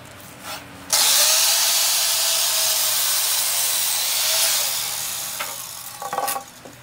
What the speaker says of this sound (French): Avec ma scie à onglet, je coupe les chevrons en deux.